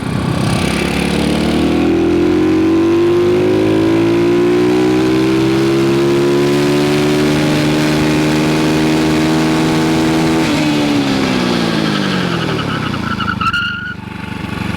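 A car engine revs up steadily with rising pitch during an emergency-braking test, then cuts off abruptly near the end, followed by a short scraping skid.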